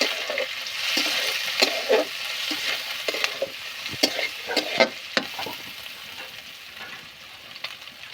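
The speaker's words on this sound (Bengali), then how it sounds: "পেঁয়াজ আদা রসুন আমি এইভাবে কষিয়ে নেব" Chili frying in a pan with onion, ginger and garlic, a steady sizzle broken by clinks and scrapes of stirring that come irregularly throughout.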